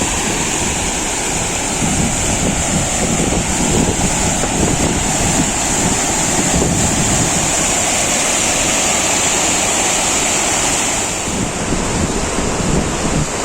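Steady, loud rush of the Hiran River flowing near Sasan Gir during the monsoon, filling the scene without a break, with a touch of wind noise and no talking.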